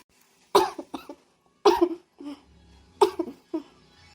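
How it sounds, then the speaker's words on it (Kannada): Three bursts of harsh coughing from a person with chills and fever, each a cluster of two or three hacks, spaced about a second apart in an otherwise quiet room. "ಯಾರಮ್ಮ ಒಳಗೆ ಕೆಮ್ತಾ ಇರೋದು"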